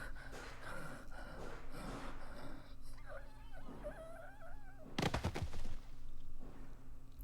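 Gunfire in Telltale's The Walking Dead video game, Episode 4: a brief cluster of sharp, loud bangs midway through, set against moaning, eerie game ambience with no talking.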